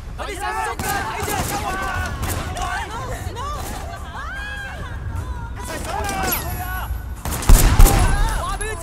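Sustained gunfire aimed at gangsters in Sleeping Dogs, a steady barrage of shots under busy shouting and chatter, ending in a louder heavy blast near the end.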